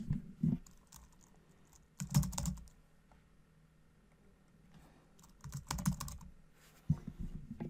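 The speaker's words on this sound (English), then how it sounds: "we can now type in our admin and password" Typing on a computer keyboard to enter an admin username and password, soft clustered keystroke bursts separated by pauses, close and fairly quiet.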